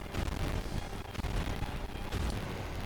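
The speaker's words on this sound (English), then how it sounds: "Just like constant explosions whenever we hit him." Explosions ring out as hits land on a boss in the video game Dark Souls Remastered, a continuous rumbling barrage of loud bursts with no pause and no talking.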